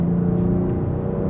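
A 2022 Genesis G70 Sport with a 365 hp engine and eight-speed automatic, shifted manually, hums and rumbles steadily in a deep, close drone from the cabin, with a brief faint click or whoosh, and no talk.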